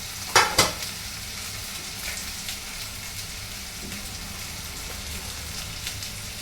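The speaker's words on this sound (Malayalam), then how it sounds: "ഉപ്പിട്ട് കൊടുത്തിട്ട് ഇത് നല്ലോണം വഴറ്റിയിട്ട് വരണം" Onion, chili, ginger and garlic sauté with salt in a pan, opening with a couple of loud stirring scrapes before settling into an even, moderate sizzle.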